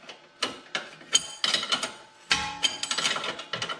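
Bolt on a 2004 Toyota Corolla control arm being tightened by hand: a series of close metallic ratcheting clicks and clanks in irregular bursts, with brief pauses between strokes.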